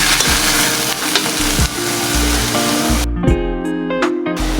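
Pechay sautés in a pan with a steady, loud sizzle and frying hiss heard up close, broken by a few stirring clanks toward the end.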